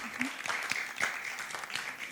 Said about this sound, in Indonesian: Boleh berikan tepuk tangan terlebih dahulu